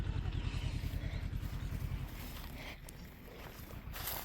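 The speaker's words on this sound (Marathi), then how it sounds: "आणि आता ट्रॅक्टर चाललेला आहे" A tractor runs in a farm field with a low, rhythmic engine chugging for about two seconds. The sound then eases into a quieter, rougher rumble, faint and some distance away.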